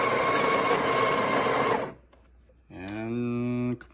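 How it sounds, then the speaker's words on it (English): Breville Barista Express 870XL espresso machine grinding coffee beans, a loud steady whirring grind for about two seconds that stops, followed after a pause by a tonal mechanical hum. "you push it and let the coffee grind"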